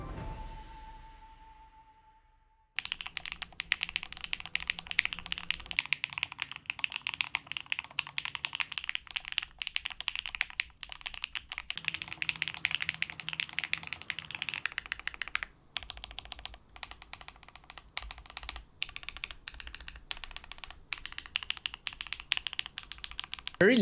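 Fast, steady, fairly clacky typing on an Akko mechanical keyboard, close up, with brief pauses between bursts of keystrokes.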